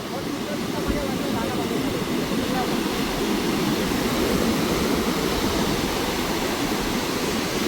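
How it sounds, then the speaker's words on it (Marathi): Rough, stormy sea waves roar as a dense, continuous wash of surf noise on a fishing coast, loud and unbroken throughout with no distinct individual breaks. "पिलचा लाटा खतरनाक आहेत म्हणजे बघताय मौसम एकदम डेंजरच झालाय"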